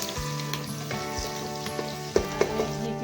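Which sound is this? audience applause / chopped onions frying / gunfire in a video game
chopped onions frying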